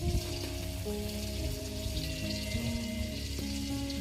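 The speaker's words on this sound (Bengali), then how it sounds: "পেঁয়াজটা ভালো করে ভেজে নিচ্ছি" Chopped onions fry in hot oil with garam masala in a pot, giving a steady, dense sizzle that stays fairly loud throughout alongside a sustained tonal melody.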